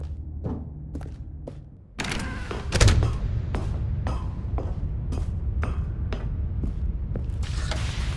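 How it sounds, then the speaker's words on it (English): A large door opens into a Mind Control Facility in The Stanley Parable, heard as a heavy thud and a deep mechanical rumble at about two seconds, with clicking, clunking machinery ticking on under a low hum. "Stanley walked straight ahead through the large door that read Mind Control Facility"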